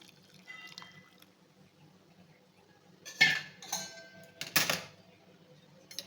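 Boiled water poured into a pot of rice for a spiced chole rice dish, with a quiet background and then two short bursts of splashing and pouring, metallic clinks and drips in between.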